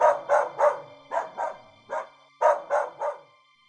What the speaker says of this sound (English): The sound of dogs barking again woke some of the neighbours